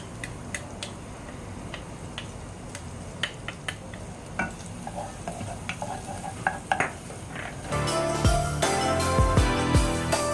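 Garlic frying over medium heat in a pot for mushroom soup, a soft sizzle with scattered utensil clicks and taps, then a sudden louder, fuller crackle near the end.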